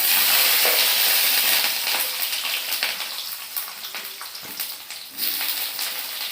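Potato, eggplant and tomato pieces frying in hot oil give a loud, steady, crackling sizzle that eases slightly after the start, with soft bubbling and a brief flare-up near the end.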